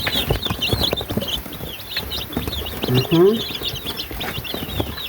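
Young three-month-old chicks peep in a steady stream of small high chirps, close by, with occasional clucking and other farmyard noise mixed in throughout.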